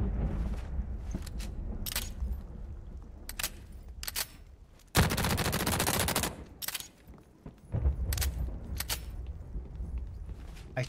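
A BDW gun in the video game The Cycle fires rapid bursts of loud, crackling shots, including one long sustained volley, broken up by sharper single clacks and mechanical handling noises between the bursts.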